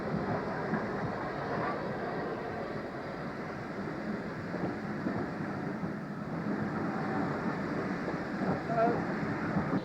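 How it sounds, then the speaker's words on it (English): A passenger train runs on the line to Wittersham Road station, a steady, moderately distant rumble of rolling wheels and carriages with faint rhythmic clatter, heard under light talk. "It's the first passenger train to go to Wittersham Road station."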